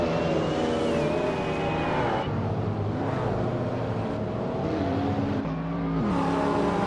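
Race cars launching at the start of a race, led by a 1992 16T on pole, make a loud, continuous engine roar whose pitch rises and falls as they accelerate and shift.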